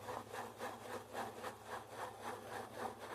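A shaving brush works a liquidy lather in a bowl, giving soft, rhythmic swishing strokes at a steady pace, quiet and close with no talking.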